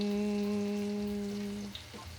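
Eggs and vegetables frying on a hot grill: a steady electric hum with faint crackling sizzle underneath, fading out near the end, close by and without speech.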